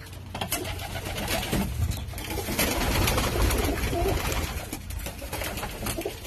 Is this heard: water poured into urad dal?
no